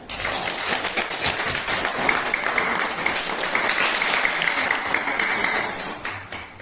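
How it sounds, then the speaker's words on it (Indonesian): A classroom audience of fellow students applauds a classmate, dense steady clapping filling the room at close range for several seconds before tapering off at the end. "Tepuk tangan dulu teman kalian"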